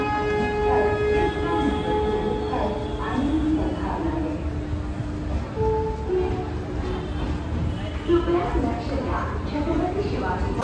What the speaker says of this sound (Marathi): आता ट्रेन थांबली आहे साईडला